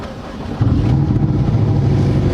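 A rebuilt Porsche engine cranks and then catches, settling into a loud, steady idle nearby with no voices.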